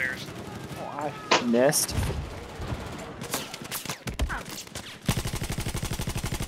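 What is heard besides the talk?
light machine gun fire in a video game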